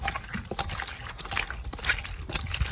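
Golden apple snails being rinsed in plain water, with close, irregular sloshing, trickling and dripping as the shells are swirled and handled by hand.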